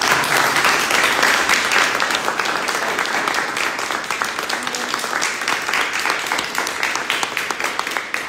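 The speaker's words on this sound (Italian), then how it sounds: "Un applauso a Padre Giammusso di incoraggiamento." A church congregation gives Padre Giammusso a long round of encouraging applause, dense and fairly loud throughout, easing slightly in intensity toward the close.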